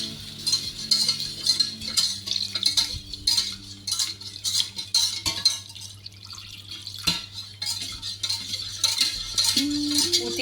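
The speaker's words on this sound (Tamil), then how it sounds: "மாவு இப்படி ப்ரௌன் கலராக வந்த பிறகு பாலை கொஞ்சம் கொஞ்சமாக ஊற்றி கலக்குங்க." Milk is stirred into browned flour in a pan for lasagna sauce, producing a steady wet scraping and sloshing that runs throughout over a constant low hum, with a few soft metallic clinks.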